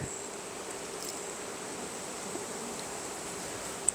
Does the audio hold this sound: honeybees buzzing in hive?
yes